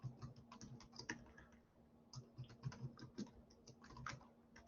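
Quiet, uneven tapping on a computer keyboard during an engineering statics lecture, with bursts of quick keystrokes separated by short pauses, close and alone.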